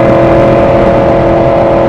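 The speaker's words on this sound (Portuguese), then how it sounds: "É muito barulho o escapamento." A loud exhaust drones steadily with a strong, sustained engine hum close by, filling the whole stretch with no voices over it.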